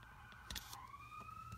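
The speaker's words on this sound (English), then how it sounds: "You guys hear that siren?" A siren wails faintly in the distance, its steady tone rising slightly, with a brief clatter of nearby movement partway through.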